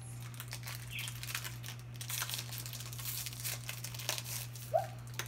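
Plastic toy surprise bag crinkled and torn open close up, quiet irregular rustling and crackling with a sharper tear near the end over a steady low hum.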